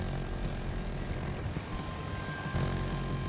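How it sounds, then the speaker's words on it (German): A helicopter flies in an online shooter video game, its engine and rotor giving a steady, fairly loud drone throughout with no speech. "Da war jetzt gerade noch ein Heli in der Luft irgendwo, habe ich gesehen."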